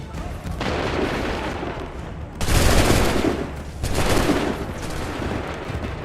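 Massed musket volleys crackle and boom in a battle in the video game Assassin's Creed III, with two loud bursts of rolling fire rising over a dense, noisy background, no talk heard.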